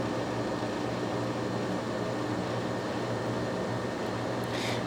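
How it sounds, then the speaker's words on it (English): A vacuum runs steadily throughout, a constant loud whooshing drone with a low hum, heard alone and unchanging while work is done on a 3DO console. "And we just got our vacuum going."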